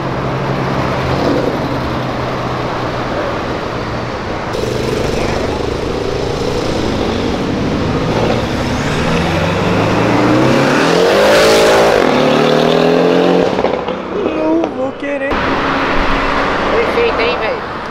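A car engine revs and roars nearby, pitch climbing and falling, with people talking and exclaiming over the noise.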